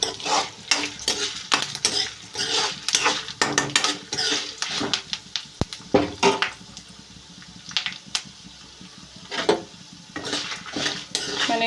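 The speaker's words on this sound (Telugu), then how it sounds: "ఈ పోపులన్నీ వేగే వరకు వేగించాలండి." Tempering spices fry in oil: a spoon scrapes and stirs the pan in constant rapid clinks and knocks over a continuous hiss of sizzling, loud and close.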